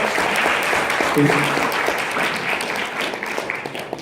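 A group of Malayalam learners gives a round of applause, a steady rush of clapping hands from a small crowd, near and continuous, with a brief voice rising through it midway.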